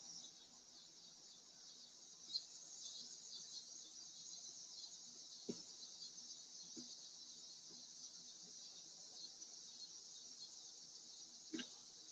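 Cicadas chirp at night in a continuous high, shrill drone that holds steady throughout, faint and distant, with a few soft knocks and clicks scattered beneath it and no talking.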